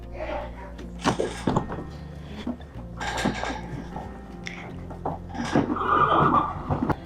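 A horse whinnies loudly near the end at a horse shelter, with shuffling, thumps and background commotion throughout, and occasional voices mixed in.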